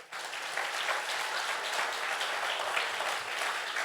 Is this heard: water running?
no